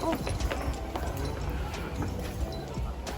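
Loud footsteps walking in a Thai student short film: a steady run of repeated thudding, clopping steps at close range, with voices talking over them.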